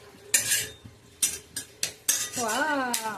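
A laddu mixture is stirred in a pan with a spoon, giving sharp metallic clanks and scrapes at an uneven pace, followed by a brief higher-pitched voice near the end.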